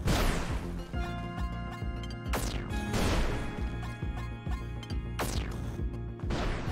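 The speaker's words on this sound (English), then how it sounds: "I just wanna break these blocks so that I can get some bubbles to kind of move up" Blocks breaking in the video game Spelunky 2, heard as repeated sharp crashing smashes at a steady pace over a busy bed of game music and effects, loud and close.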